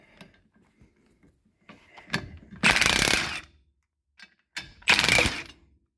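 A hub and drum puller is worked on a Mopar tapered rear axle with a ratcheting wrench, producing two loud bursts of rapid ratchet clicks close up, separated by brief quieter clinks of metal.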